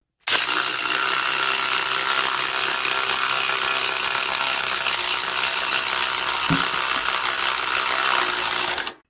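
Subcompact DeWalt and Makita power tools, run on 3.0 and 1.7 batteries, cut through wood with a continuous loud whine and grinding buzz, one brief dip near the end before stopping.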